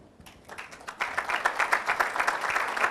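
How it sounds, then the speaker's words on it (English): A crowd at the 2014 FIFA World Cup preliminary draw ceremony breaks into applause as a delegation is called. It starts faintly, then swells within a second into sustained, dense clapping that holds steady to the end. "we can also give you a warm round of applause"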